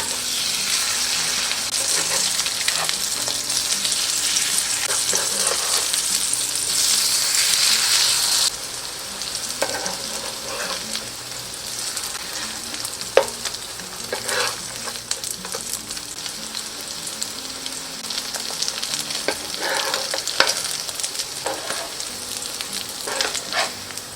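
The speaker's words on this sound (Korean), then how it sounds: "고명으로 당근채 약간씩 올려주고 진약불에 노릇하게 붙여줍니다" Enoki mushroom pancake batter topped with shredded carrot sizzles steadily in an oiled pan over low heat. The frying crackle is constant and close throughout, with occasional small pops and clinks.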